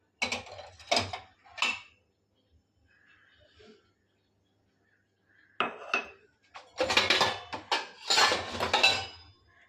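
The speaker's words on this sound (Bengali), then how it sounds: "আর কফি খাবো। কাপ বের করি।" Coffee cups and dishes being taken out in a home kitchen, with bursts of clinking china and cutlery in two clusters separated by a quiet pause, fairly close and moderately loud.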